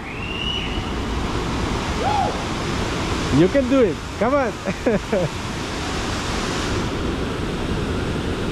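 The La Fortuna river in San Carlos, Costa Rica, makes a loud, steady roar of rushing water that fills the whole stretch. Nearby voices call out and cheer briefly over it midway.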